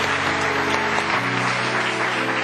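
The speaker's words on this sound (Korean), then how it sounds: "일어나실 때 우리 사랑과 축복의 박수를 보내드립니다." Church congregation claps in warm applause for an elder, a steady wash of hands with organ or keyboard tones sustained underneath.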